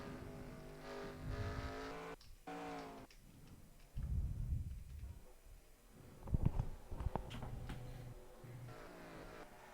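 Race cars in the NASCAR Racing 2003 video game at a Canada track, engines whining through rising and falling revs with bursts of tire squeal and passing roars, loud and close.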